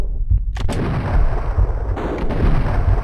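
Rapid gunfire in a Max Payne shooter game, a loud cluster of sharp, booming shots and bursts in quick succession, close and dominating the mix with no talk.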